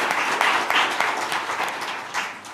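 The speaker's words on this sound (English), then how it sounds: "I think that deserves a round of applause as well" Audience applause at a civic gathering in Jacksonville honoring the city's first woman mayor, a dense steady wash of many hands clapping throughout, fairly loud and without speech.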